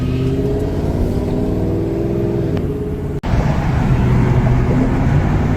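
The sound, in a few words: misfiring Police Interceptor car engine running badly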